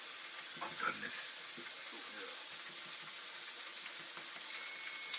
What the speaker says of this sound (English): when you cook bison meat or beef in general